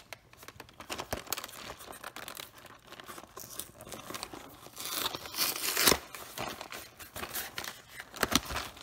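Plastic packaging around a frozen quiche crinkles and crunches continuously as it is pulled open, close and fairly loud, with sharper tearing bursts near the middle and end.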